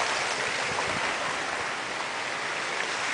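Steady, continuous broadband wash of ocean surf heard from a resort plunge pool room overlooking the sea in Jamaica, with no voices and an even, unbroken level throughout.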